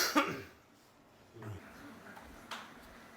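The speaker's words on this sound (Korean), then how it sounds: "기침 때문에 다급히 전화를 끊습니다" A man gives a few rough coughs and throat clears, close and fairly faint, with quiet voices in the background.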